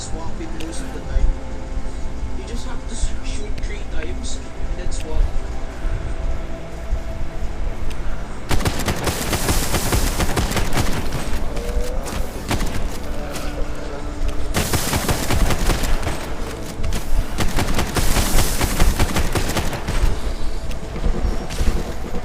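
Weapon fire in a shooting video game, with short bursts of shots and weapon swaps in a steady loud barrage that grows heavier after the opening seconds, with a voice talking over it.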